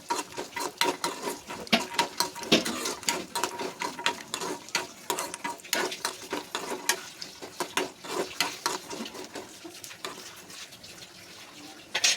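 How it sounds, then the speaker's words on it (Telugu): Dry fruits frying in ghee over a low flame in a small pan, a steady close crackle broken by sharp clicks and scrapes of stirring, with no talk. "అన్నీ కూడా కట్ చేసుకొని గీ వేసి చిన్న ప్యాన్లో ఫస్ట్ అయితే వాటిని బాగా వేపుకుంటున్నాం"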